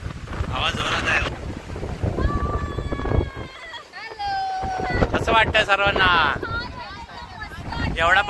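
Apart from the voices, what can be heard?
strong wind blowing at the beach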